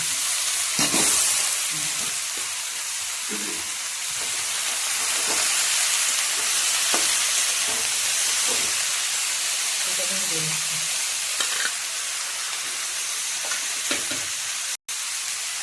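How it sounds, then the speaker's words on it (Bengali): Banana flower hits hot oil with browned garlic in a pan, giving a constant close sizzle and hiss, with occasional stirring scrapes and soft clunks throughout. "লাল লাল হয়ে গেছে, এবার কলার মোচাটা দিয়ে দিচ্ছি।"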